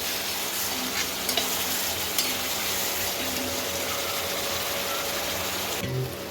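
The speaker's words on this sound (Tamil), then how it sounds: "புளி ஊற்றி அந்த பச்சை வாசனை போகிற மட்டும் கொதிக்க வச்சிடலாங்க" Tamarind water boils in a tilapia (jilebi) fish curry with a continuous bubbling sizzle from close by, and a brief clink near the end.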